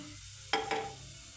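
Garlic pieces frying in a pan for pasta, a quiet steady sizzle broken by two brief stirring scrapes close together.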